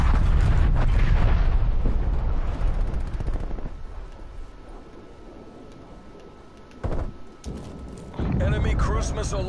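Booming explosions and rapid gunfire from an artillery strike in Call of Duty Cold War, loud and continuous with heavy low rumble, bursts of blasts near the start and again toward the end, with voices talking over it.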